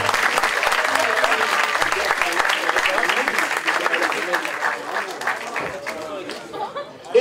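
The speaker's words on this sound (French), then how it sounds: "j'aimerais qu'on les applaudisse très" An audience at an event organized by a web magazine department applauds loudly and continuously, with scattered chatter and light laughter mixed in, the clapping thinning out toward the end.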